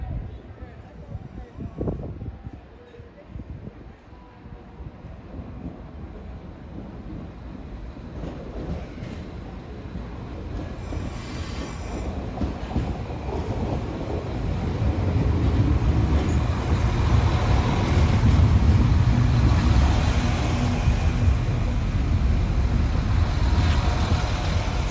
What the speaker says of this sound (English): here comes the train bound for Rosslare, Europort at 2:17. Got a set of DMUs